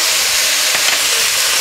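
A tablespoon of ginger paste fries in hot oil in a pan for a vegetarian labra, making a loud, steady, close sizzle and hiss throughout.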